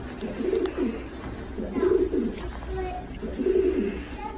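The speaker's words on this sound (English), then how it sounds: "What kind of messenger pigeon is this?" A pigeon cooing in three repeated low, rolling phrases, fairly close, over light background noise and faint rustling.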